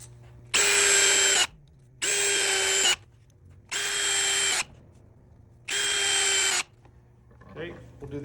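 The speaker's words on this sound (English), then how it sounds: "go ahead and put screws in the backrest rails" A power drill drives screws into the backrest rails of a wooden Homestead side chair with a 3-inch square drive, in four loud bursts of about a second each separated by short pauses, with faint background noise.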